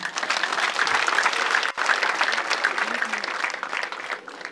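Applause from an audience at a church gathering, dense sustained clapping from a large crowd lasting several seconds, fairly loud and close with only a brief dip midway.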